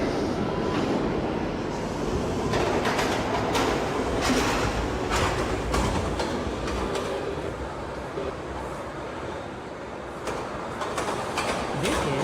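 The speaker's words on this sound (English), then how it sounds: "This is a 168th Street bound C local train." A New York City subway C local train runs along the track, with a steady rumbling roar, rattling wheels and scattered sharp clanks throughout, and faint voices mixed in.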